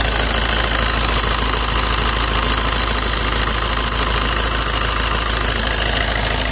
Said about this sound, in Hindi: तो चलो डीजल इंजन स्टार्ट करते हैं और आवाज़ सुन लेते हैं इस गाड़ी की।